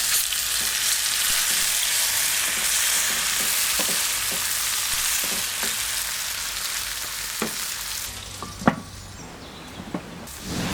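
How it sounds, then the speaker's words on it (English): Potatoes fry with turmeric and chili powder in a hot pan. A constant loud sizzle runs throughout, broken by occasional scraping clicks from stirring near the end. "Fry the potatoes for 10 to 12 minutes until tender."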